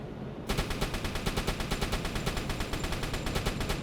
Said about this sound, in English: Random firing.